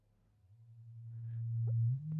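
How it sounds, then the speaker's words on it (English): Meng Qi Wing Pinger synthesizer filter self-oscillating on its own, a pure sine-like tone that starts very low and slowly rises in pitch, growing louder with a faint chirp near the end. "So without pinging, this filter self-oscillate."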